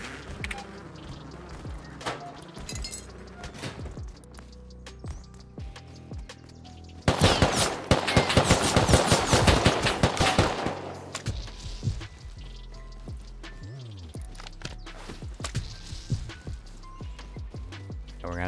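Explosive rounds fire in the survival game Rust, a dense burst of loud rapid shots for about three seconds, with quieter scattered thumps and impacts before and after.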